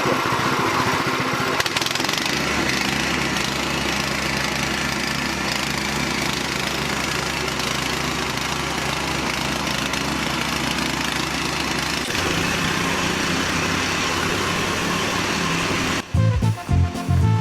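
A Nielsen C60 plate compactor's engine roars loud and steady at full throttle with a dense, pounding drone, then cuts out near the end, followed by a few clanks and knocks.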